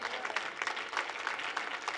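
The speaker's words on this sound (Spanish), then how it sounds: "¿Alguien quiere dar un aplauso al Señor?" Church congregation clapping during a Spanish-language sermon, brisk applause with individual claps standing out in an uneven rhythm throughout.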